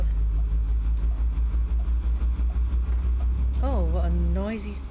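A loud, rough truck engine drone in a truck driving game, a heavy low rumble with a throbbing rhythm that fades near the end, with someone talking over it.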